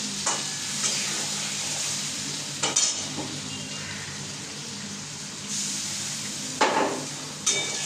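Turmeric, chili powder and salt are stirred in hot mustard oil, a close continuous sizzle with several sharp scraping stirs against the pan.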